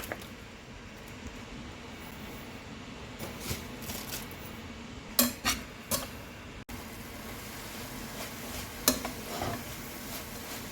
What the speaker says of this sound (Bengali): ক্রমাগত নাড়াচাড়া করে নারকেলগুলোকে ভালো করে পাক দিতে হবে।